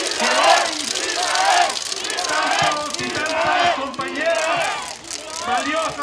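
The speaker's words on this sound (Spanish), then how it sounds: "para quien pido un fuerte aplauso" A crowd cheers and shouts loudly and steadily, with voices layered together, for federal deputy Israel Moreno at his second legislative report event.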